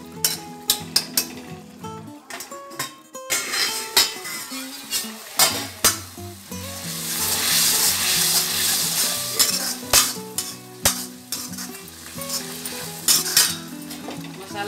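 Masala spices for a bottle gourd curry frying in a pan, a continuous loud sizzle with sharp spoon clinks and scrapes as the mixture is stirred, close by.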